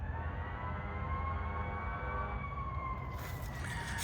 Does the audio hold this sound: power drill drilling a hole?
no